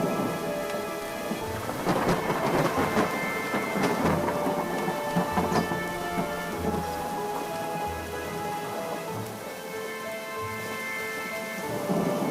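Heavy rain pours steadily with low thunder rumbling through, all beneath soft background music, and no one speaks.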